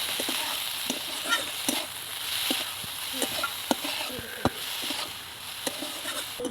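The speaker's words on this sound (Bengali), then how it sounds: "দিয়ে নুনটাকে ভালো করে মিশিয়ে নেব" Salt being stirred into Malabar spinach frying in a pan, a steady sizzle with repeated scraping clicks of the spoon at an irregular rhythm, close and moderate.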